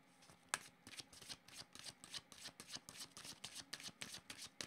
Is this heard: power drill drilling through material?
no